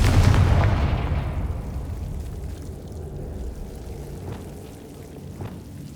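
A Confringo blasting spell goes off in Hogwarts Legacy as a single loud, booming explosion that decays into a rumbling tail over several seconds, with faint pops afterward.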